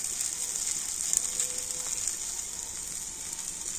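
Spices such as turmeric and Kashmiri chili powder sizzling with tomatoes in a pan for a fish roe dish: an even, hissing sizzle held steady throughout, with a few faint clicks.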